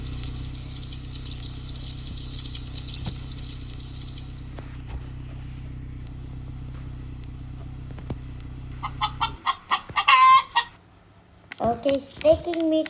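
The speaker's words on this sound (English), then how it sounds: "I'm just a chicken that makes noise." Cartoonish chicken clucks and a short rooster-like call from a Roblox Brookhaven player character, bursting out in quick uneven bunches near the end after a long stretch of steady game background sound.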